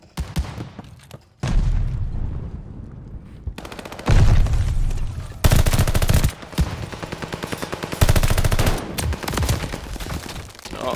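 Automatic weapons rattle in bursts during a Call of Duty Vanguard match, loud close fire broken by short pauses and heavy booms, with no talking.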